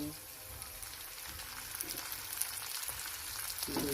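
Ginger, garlic and tomato frying with browned onions in a pan, giving a steady low sizzle and crackle that runs throughout, fairly quiet and close, with a few stirring bumps.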